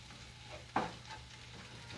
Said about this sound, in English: Okay, it's time to add the turmeric. Okay, just saute a little bit.